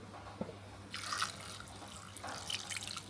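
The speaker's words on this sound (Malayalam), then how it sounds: "മുങ്ങാൻ പാകത്തിന് വെള്ളം ഒഴിക്കണം" Water pours into a clay pot holding taro pieces, a quiet splashing and trickling with a few soft drips and small knocks, fairly close but faint.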